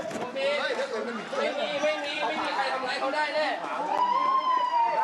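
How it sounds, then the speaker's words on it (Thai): Ambulance siren at a street clash between protest groups, a rising and falling wail under dense crowd chatter and shouting, with excited voices talking close over it. "มีรถพยาบาลมาแล้วนะฮะ"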